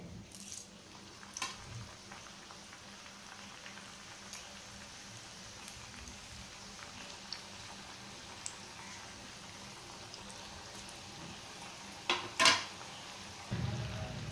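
Chakli made from poha sizzling and bubbling in hot oil, a steady faint fry with a few clinks of a utensil near the end.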